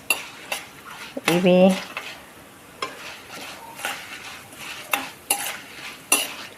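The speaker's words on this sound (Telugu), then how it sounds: "చూడండి, వీటిని ఇలా కొద్దిగా వేయించుకోవాలి." Drumstick leaf spice powder roasts slowly over a medium flame, with a utensil clinking and scraping against the pan in a loose rhythm over a soft sizzle. A voice says a single short word.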